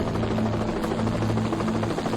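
A rescue helicopter hovers close overhead for a cable lift in the Wrangell Mountains of Alaska, its steady rotor drone and turbine buzz loud and continuous throughout.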